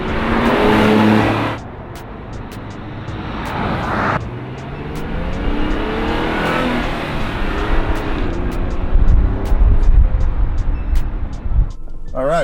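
From inside a 2005 Acura NSX on the move, the engine drones and revs, its pitch climbing and falling through the gears, with voices faintly underneath.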